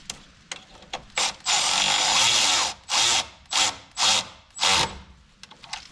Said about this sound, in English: I'm gonna use the electric ratchet